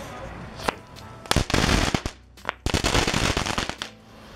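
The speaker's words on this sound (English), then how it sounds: "Next, we have some crackling balls," Crackling balls, a novelty firework, go off in dense bursts of sharp, rapid crackles and pops, close and loud, separated by brief gaps.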